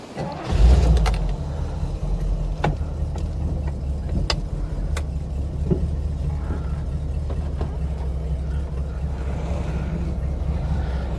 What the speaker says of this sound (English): we're going to fire it up and take it out for a spin